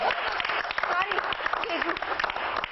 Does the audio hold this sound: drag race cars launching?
no